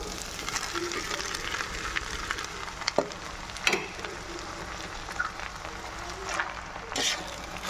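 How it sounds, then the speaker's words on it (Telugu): Chicken samosas frying in hot oil give a steady, soft crackling sizzle throughout, broken by a few sharper clinks and spatters, with faint background noise and no clear talk. "వేసి మంచిగా వేయించుకుందాం."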